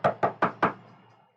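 Four quick, evenly spaced knocks on a door, close and loud, followed by a short fading ring and then silence.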